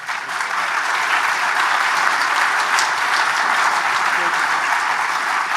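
A large conference audience at an international summit on concussions applauds in a steady, dense roar of clapping that holds evenly from start to finish.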